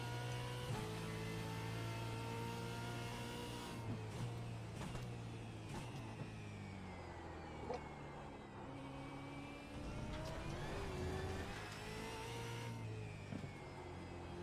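A V8 Supercar on old tires laps the Belle Isle street circuit in iRacing, engine howling and climbing through gears with pitch sweeps between shifts, steady and close but recorded at low level.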